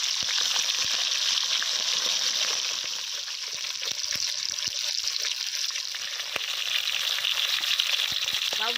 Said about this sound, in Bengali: একটা একটা করে মাছের পিস দিয়ে দেবো তেলের মধ্যে।